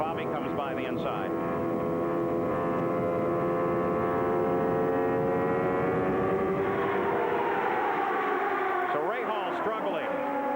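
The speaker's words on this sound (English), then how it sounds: "Let's listen to this engine and also see whether or not he can get around flat at all." A 1994 Indycar race engine at Phoenix screams at high revs, its harmonics sweeping as the car passes, with commentary running over it throughout.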